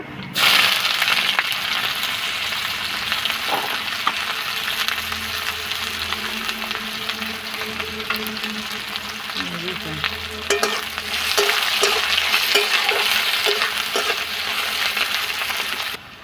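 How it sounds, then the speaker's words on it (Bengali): Chopped onion fries in oil in a kadai with bay leaf, whole cumin and nigella seeds, a loud steady sizzle with repeated scraping stirs running throughout. "আমার পেঁয়াজটা হালকা বাদামি হয়ে আসছে ভাজাটা"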